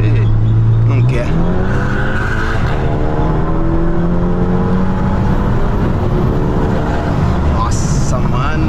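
Tuned VW Jetta TSI with a Biagio 300 turbo and remap, its engine droning loud and close as revs climb and hold high, heard from inside the car with someone talking over it.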